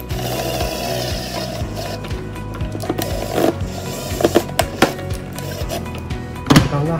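Screws are tightened on a children's dual-drive electric ride-on car styled as a Mustang police car, giving rapid ratcheting clicks and small metallic knocks at close range over a low background hum.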